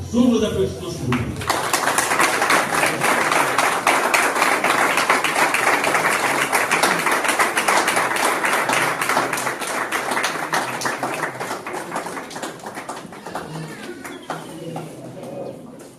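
Applause from guests at a civil wedding ceremony in a town hall in Loandjili, Republic of the Congo: after a brief spoken moment, dense sustained clapping rises and continues loudly, fading slightly toward the end.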